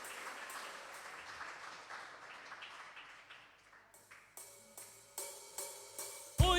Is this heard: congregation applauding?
yes